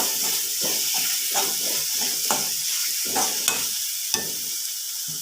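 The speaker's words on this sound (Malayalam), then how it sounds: "മഞ്ഞൾപ്പൊടി ഇട്ട് ഇളക്കി കൊടുക്കും" Turmeric powder is stirred into egg masala frying in a pan, giving a loud, even sizzle under repeated scraping strokes of a spoon in a steady rhythm, with a few small clicks and no voices.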